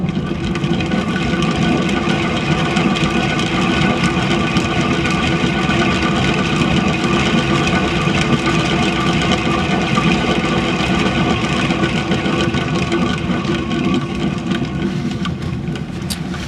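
A paint spinner whirs continuously and steadily, spinning out a tile coated in iridescent paint for a bloom pour, a loud motorized hum with no pauses.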